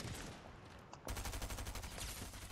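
Sniper gunshots in a video game, coming from a group of three players at a distance. A quiet opening gives way to a rapid run of sharp, faint shots that crack in quick succession.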